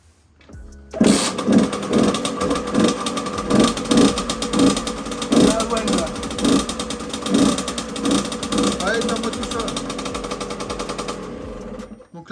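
Beta 50 moped engine on its original exhaust, cold, starts up and runs with a rapid, uneven two-stroke putter and irregular revving bursts, close by, with a short spoken remark.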